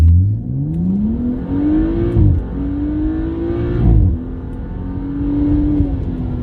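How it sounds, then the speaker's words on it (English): A Mercedes CLA45 AMG W117 with a Stage 1 tune launches hard on a straight road, its engine climbing through rising revs with distinct upshift dips, loud and close from inside the car. "I'd say stop the car here and launch it."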